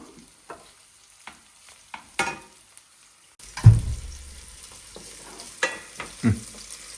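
Food frying in a home kitchen, with soft clinks and stirring at first, then a louder burst of sizzling when ingredients hit the hot pan, followed by a steady crackle and occasional utensil scrapes.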